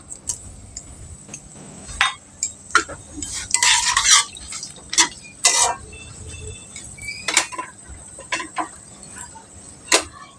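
Two bay leaves, a dried red chilli and whole garam masala crackle in hot oil, with short bursts of spitting and several clinks and scrapes of a spoon in the pan.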